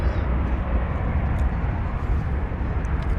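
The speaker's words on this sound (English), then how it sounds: "American flight 2579 to Denver, an Airbus A321 is departing" An American Airbus A321 departing Dallas Fort Worth airport, a broad distant jet roar holding steady throughout with no voices.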